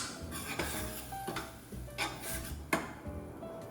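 Herbs and onion stirred in a pan with a utensil, giving light scraping clinks and taps against the metal in an irregular rhythm, close by with no talking.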